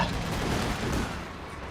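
Dense, continuous volleys of gunfire from the Company of Heroes 2 strategy game roll on at a steady, loud level, with no clear gaps between shots.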